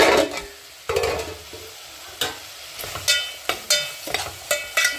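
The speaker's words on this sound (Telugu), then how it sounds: "బాగా ఫ్రై అయిపోయినాయి మొత్తం." Ingredients for an upma-style dish frying and being stirred in a pan, loud close sizzling punctuated by repeated scraping spoon strokes at a brisk irregular rhythm, with no voices.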